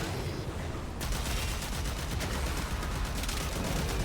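Sustained automatic gunfire emptying a full magazine in the video game Warframe, a dense rapid stream of shots that starts abruptly after a second and continues loud and unbroken to the end.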